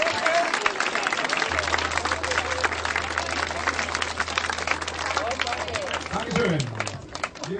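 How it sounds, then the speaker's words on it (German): A crowd at a sports awards ceremony claps for the winners, a dense steady patter of applause close by, with voices mixed in underneath. "Applaus nochmal"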